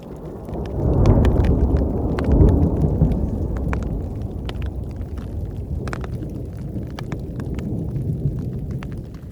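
Heavy thunder rolling through a storm on the Pacific Crest Trail, with deep booming rumbles swelling near the start and then continuing as a sustained low roar, with faint rain crackle over it.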